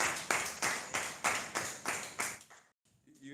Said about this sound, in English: we are putting our hands together for you. We are clapping,